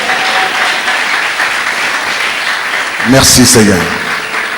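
A church congregation bursts into loud applause and cheers in acclamation of the Lord, the clapping swelling up after a stretch of steady crowd noise, with a voice speaking over it.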